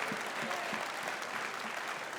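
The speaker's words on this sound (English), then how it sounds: "big round of applause." A furry convention audience at its closing ceremony gives a steady round of applause, a dense wash of many hands clapping from a large hall, even in loudness throughout with no talk over it.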